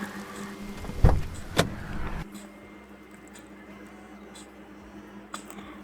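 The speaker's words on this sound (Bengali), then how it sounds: "জানালাগুলি আটকানো।" Household windows pulled shut during heavy rain, with a couple of loud knocks and a rattling slide near the start, then a quieter steady hiss as the room closes off.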